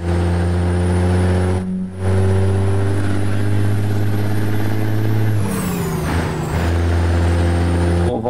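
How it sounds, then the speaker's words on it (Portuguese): A heavy truck engine in Euro Truck Simulator 2 drones loudly and steadily, then rises toward the top of its rev range with a brief whistling turbo note and a short hiss before settling back. "Tem o barulhinho da turbina no finalzinho do giro"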